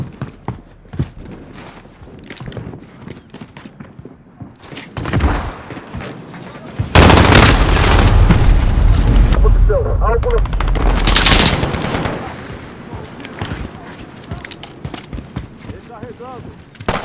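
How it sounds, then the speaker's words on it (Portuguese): Multiplayer gunfire in Call of Duty: Modern Warfare on the Hackney Yard map: scattered shots and footsteps, then a loud sustained automatic burst for several seconds, followed by sparser shots, with talk heard around it. "Atirando em mim!"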